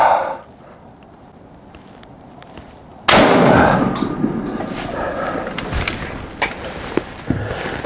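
A Beretta 1301 Tac shotgun with a Kick Off stock fires one loud, sharp shot outdoors partway through. A long, noisy tail and scattered clicks and clatter follow the blast.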